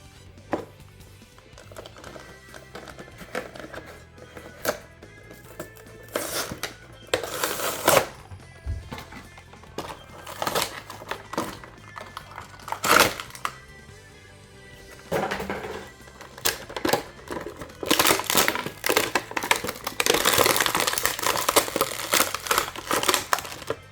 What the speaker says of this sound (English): Let's go ahead and take them out of the packaging and have a closer look.